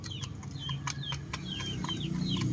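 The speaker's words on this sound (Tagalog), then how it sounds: "Bisayang manok or native na manok." Native Bisaya chickens cluck and chirp in short repeated calls, scattered irregularly over a quiet farmyard background at moderate distance.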